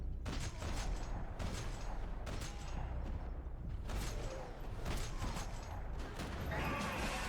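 Gunfire in the video game Max Payne 3, rapid bursts of shots over a dense, rumbling game mix at low level, with faint voices underneath.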